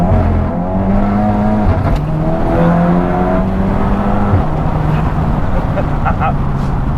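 A loud engine of a Stage 2 tuned VW Scirocco R revs hard and climbs steadily in pitch, a deep roar pulling up through second gear, with voices talking over it close by.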